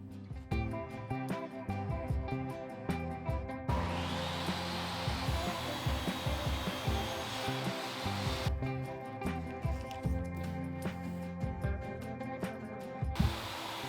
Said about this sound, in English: since I'm doing a cross cut on my table saw